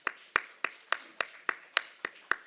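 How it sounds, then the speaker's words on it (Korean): Slow, even hand clapping in a Korean church congregation, about nine sharp claps at a steady rhythm, fairly close and clear with no talk over it. "다시 한번 박수 한번 드리겠습니다."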